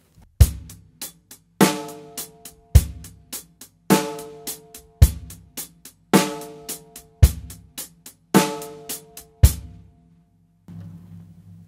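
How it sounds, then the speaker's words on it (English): A drum kit plays a basic rock groove, with crisp sixteenth-note hi-hat ticks driving a steady beat of kick and snare hits, loud and close for several bars before stopping. "When you add that hi-hat pattern to the groove, it sounds really nice. It sounds like this."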